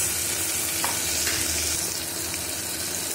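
Tomato and onions sauté in a pan for mutton paya, a steady close sizzle and fry with a few light stirring scrapes, no talking.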